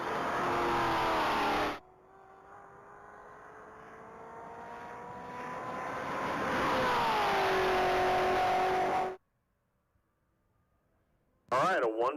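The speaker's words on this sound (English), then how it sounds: "It's a 2019 Chevrolet Corvette Z06. Already done 206 miles an hour on a previous pass." A 2019 Chevrolet Corvette Z06 makes a top-speed mile run at a Texas Mile racing event. Its engine roars loudly, the pitch climbing steadily before the sound cuts off abruptly, followed by a brief burst of noise near the end.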